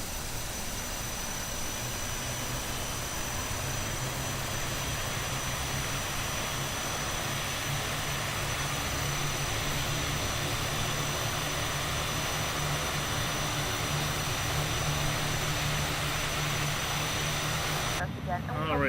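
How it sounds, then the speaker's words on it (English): The engines of an ATR72-600 turboprop airliner wind up at Shimojishima, Japan, ahead of a flight to Ishigaki, droning steadily inside the cabin throughout, a loud continuous roar with a constant high whine above it, and faint voices beneath. "Alright, so the engines are up and going."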